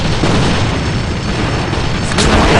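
A grenade blast in the shooter game AVA: one loud, dense roaring burst fills the whole clip and stays heavy and continuous, with a slight swell near the end and no talk.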